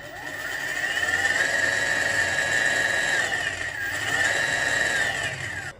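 A homemade ebike gearbox spins under a 1000W electric motor, giving a steady loud whine with rising and falling gear pitch that swells, dips briefly and winds up again before stopping.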